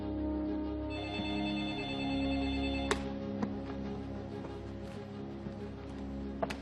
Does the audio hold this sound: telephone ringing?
yes